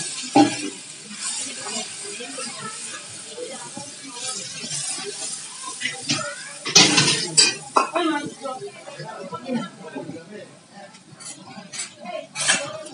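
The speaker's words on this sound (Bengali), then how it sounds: "মশলাটার মধ্যে একটু জল দিয়ে দেবো" Water splashes into spices frying in a hot pan during Bengali village-style vegetarian paneer cooking, a loud sizzle with clinking cookware and stirring, building up midway, all under a talking voice.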